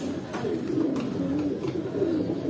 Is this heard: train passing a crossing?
no